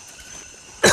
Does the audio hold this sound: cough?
yes